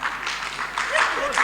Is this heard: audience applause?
yes